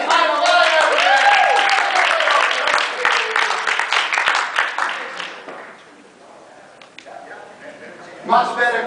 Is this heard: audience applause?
yes